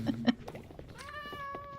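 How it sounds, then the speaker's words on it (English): A Minecraft cat gives a single clear, drawn-out meow near the end, after a couple of soft muffled sounds and brief faint speech. "Oh, there's another cat."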